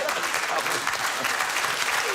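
A studio audience on the British comedy quiz show QI claps and cheers in a dense, steady wash of applause that fills the whole stretch at an even, fairly loud level.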